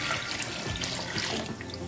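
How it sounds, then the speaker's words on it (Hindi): Water pours into a pot of beef trotters cooking for paya broth, a steady broadband rush and splash continuing without break, close and fairly loud with no talk. "अब मैं इसमें पानी डालूंगी इसको शोरबा बनाने के लिए"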